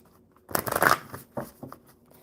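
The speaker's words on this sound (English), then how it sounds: "So I shuffle them and then knock on them 3 times and start again." Tarot or oracle cards shuffled by hand, a short riffling burst followed by a few softer card taps, close and alone.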